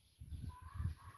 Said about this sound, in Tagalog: lumapit na nandun yung mga manok ko